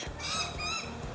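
Birds squawking outdoors on a sunny day, harsh overlapping calls in a short burst, fairly close and loud.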